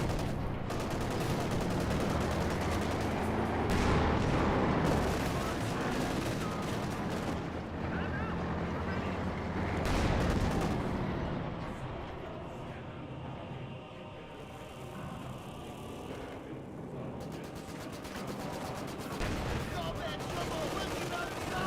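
In Company of Heroes 2, a barrage of artillery shells and gunfire rumbles and cracks without a break. The loud, dense explosions and shots run under a commentator's voice throughout.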